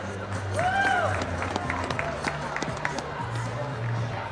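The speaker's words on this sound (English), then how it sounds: "give him a big round of applause" An audience at a FIRST robotics competition event claps and cheers at moderate volume, a broad crowd wash with scattered claps, and an announcer's voice briefly audible over it.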